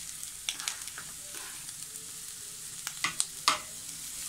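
Sliced onions, green chilies and curry leaves frying in a pan for pepper chicken, a soft steady sizzle broken by a few sharp crackles and pops, fairly quiet with no voices.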